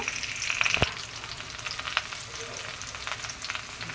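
Yardlong beans for Bengali shukto fry in hot oil in a pan, a soft steady sizzle with a few brief clinks and stirring sounds, fairly quiet and without talk.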